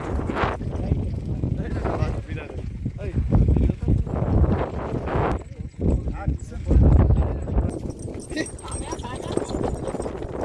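Horses clip-clop down a track during a rewal gait race in Dhanavada, Abdasa, Kutch. The hoofbeats are steady and rapid under loud crowd noise, wind and an announcer talking constantly throughout.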